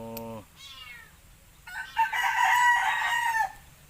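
A pet chicken recovering from botulism, a rooster, lets out one loud, close crow of about two seconds, preceded by a short harmonic call.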